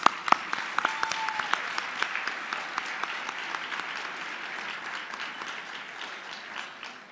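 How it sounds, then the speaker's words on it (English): Steady audience applause at a luncheon honoring award recipients, many hands clapping continuously at a moderate distance with a few sharper individual claps near the start, sustained throughout. "One more applause for all the yellow recipients"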